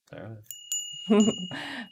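A bright, sustained electronic ding rings out and lingers, with voices talking over it before and after.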